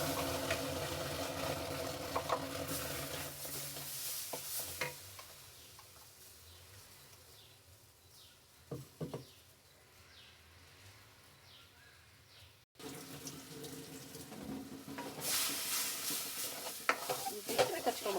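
Chiroti semolina and ground mango paste stirred in a pan, a soft sizzle and repeated scraping strokes, louder at the start and end with a quieter stretch in between, a few faint clinks of the spoon.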